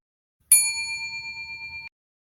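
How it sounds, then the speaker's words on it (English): Notification bell sound effect: a single bright, clean ding that rings out alone and holds with a gentle shimmer for over a second before cutting off abruptly. "be sure to subscribe and ring that bell."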